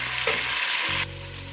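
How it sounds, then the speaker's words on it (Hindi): Chopped tomatoes fry in a pan for matar pulao, giving a loud, continuous hiss and sizzle with a brief stir partway through. "इसको भी मैं इसके अंदर डाल के तकरीबन 1 मिनट तक पकाऊंगी।"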